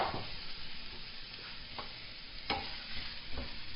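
Jaggery melting with tomatoes in a pan for sweet and sour chutney, a soft, even sizzle broken by several scraping stirs, with no talk.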